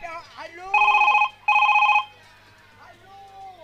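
A phone ringing with two loud bursts of electronic bell-like trilling, each about half a second long, separated by a short pause, with people talking softly before and after.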